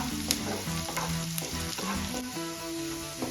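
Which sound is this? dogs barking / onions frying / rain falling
onions frying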